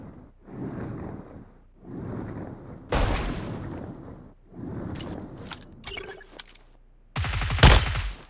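Video game gunfire comes in repeated bursts of automatic fire. Several spaced volleys are followed by sharper cracks and a loud final burst up close, with no talking.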